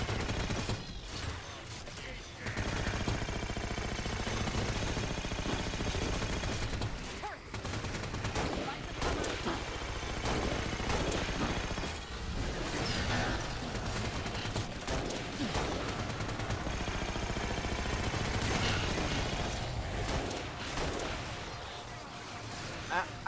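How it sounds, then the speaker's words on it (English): Suppressor weapon firing in Halo 4 during a chaotic Mythic campaign fight, a dense run of rapid shots over steady game noise and music with a voice talking over it. "The suppressor is also slightly more buffed, like it has a faster fire rate."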